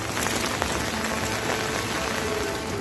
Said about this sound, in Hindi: उत्तरकाशी के बड़कोट तहसील में बरसात का पानी सड़कें ध्वस्त कर रहा है।